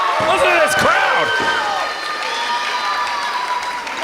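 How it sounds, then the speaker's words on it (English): A live wrestling crowd at an event center cheers and applauds loudly, the roar strongest at first, with sharp slams early on, then settling into a sustained wash of crowd noise. "Listen to this crowd."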